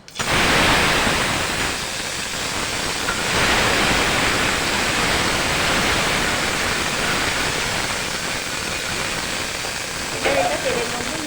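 Dried red chillies, black cumin and ginger-cumin paste dropped into hot oil, a loud rushing sizzle that bursts up at once and holds steady and close, easing slightly near the end.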